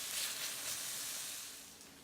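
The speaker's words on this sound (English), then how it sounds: "our chorizo now has been browning for a few minutes" Chorizo browning in a pan gives off a faint, steady hiss of sizzling fat that fades slightly toward the end, with no talking.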